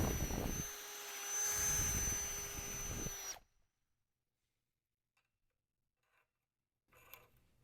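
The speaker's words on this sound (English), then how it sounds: "now we can drill out our terminal in so it'll fit over this bolt" A whining power drill bores out a car battery terminal in short bursts for a few seconds, then stops, leaving near silence with a few faint clicks and a brief rustle.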